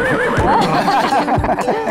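A horse whinnies in a couple of wavering, rising-and-falling calls, loud and close, with faint low thumps and background noise around it.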